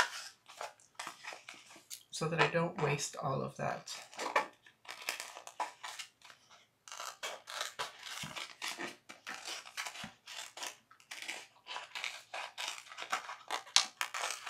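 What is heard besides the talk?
scissors cutting glitter iron-on sheet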